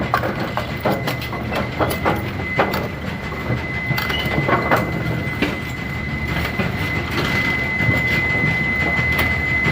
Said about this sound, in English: Deck shifts to set pins.